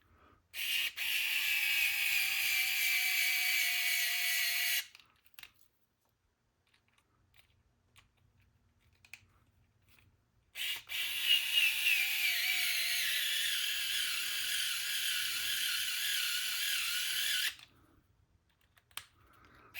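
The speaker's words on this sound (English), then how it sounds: "I'm gonna definitely use the power drill on this one" A small power drill runs while assembling the front axle of an Axial SCX10 Pro RC car, whining in two sustained bursts of several seconds each with a quiet pause between them.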